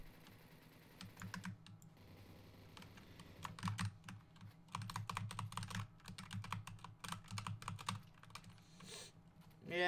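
Fast, uneven key presses rattle on a Razer Huntsman TKL keyboard, a busy patter of close, clicky strokes at low level that carries on with no voices.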